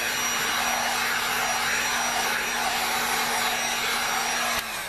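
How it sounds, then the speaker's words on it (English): A heat gun runs continuously close by, blowing over stray hot glue strings on a mixed media wall hanging, with a steady loud airy roar and a faint hum that dips slightly at the end. "the heat gun."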